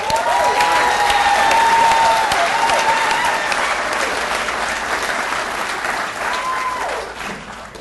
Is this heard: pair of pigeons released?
no